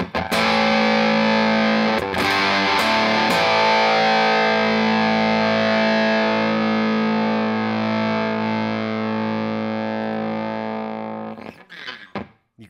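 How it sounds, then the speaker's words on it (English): Fender T57 Telecaster played through a Matthews Effects Whaler Fuzz pedal into a Morgan RCA 35 amp: one loud, thick fuzzed chord struck a few times, then held and decaying for about ten seconds before breaking apart and cutting off. "And here's the Whaler Fuzz."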